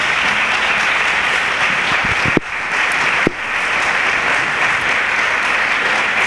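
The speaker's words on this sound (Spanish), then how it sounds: "Por favor, un aplauso para Nino." A large stadium crowd celebrating Elche CF's promotion to the top division applauds for Nino in a dense, steady roar of clapping, interrupted by two brief sharp knocks.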